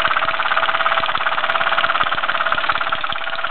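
A 1967 SE1 steam engine runs at a fast steady rhythm, loud and close, its rapid regular knocking beats over a constant bright hiss of steam, with no talking.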